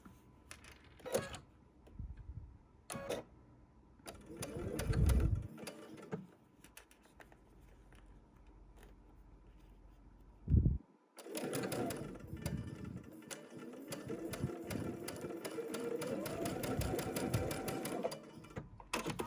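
A sewing machine stitches quilt fabric pieces for a Tula Pink butterfly quilt, running in short bursts at first, then a long continuous whirring run up close, with quiet handling noises between.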